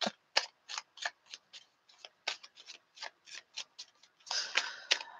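Tarot cards shuffled in a long run of quick, crisp riffling bursts, close up and rhythmic, ending in a denser flurry of shuffling.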